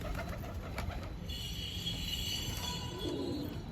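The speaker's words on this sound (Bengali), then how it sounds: "আর পায়রাগুলো অনেক শরীর খারাপ আছে" Pigeons kept in a cage coo softly at a distance beneath a steady hiss of ambient noise, with a faint high whistling tone drifting through the middle.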